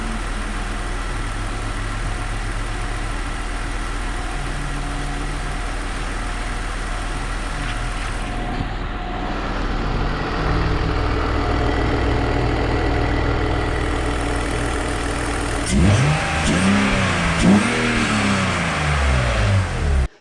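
A BMW M54B30 inline-six, bound for an E21 track car, idles steadily and smoothly for a long stretch, then revs up in several rising and falling blips near the end, close and loud with no talking.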